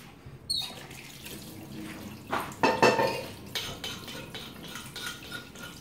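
Water splashes and stone clacks as a mortar and pestle are washed the traditional way in a sink, with a burst of louder scrubbing and rinsing in the middle amid intermittent knocks.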